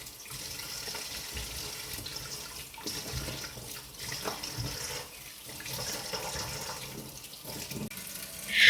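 Food is rinsed under a running kitchen tap, a continuous spattering water flow with splashes and shifting intensity, fairly close and with no speech.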